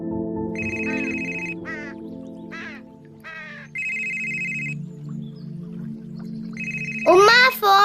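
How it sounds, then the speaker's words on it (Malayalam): A mobile phone rings in a home with repeated bursts of a steady electronic tone. Short snatches of speech come between the rings, and a louder voice cuts in at the end. "ഉമ്മ ഫോൺ അടിക്കണേ."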